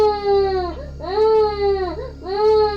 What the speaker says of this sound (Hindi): मेरे नाना को किसी बच्चे की रोने की आवाज़ सुनाई दी